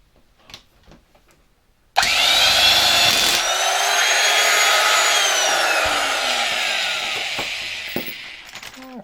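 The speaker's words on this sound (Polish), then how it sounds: "kiedy śruba już dochodzi do końca i jest zablokowana, bardzo fajnie słychać działanie tego mechanizmu udarowego we wkrętarce" A 1978 SRBs 6 electric screwdriver from a Dresden power tool factory bursts into a loud, whining motor drone with its impact mechanism rattling as it drives a screw, running steadily for about seven seconds after quiet handling noises.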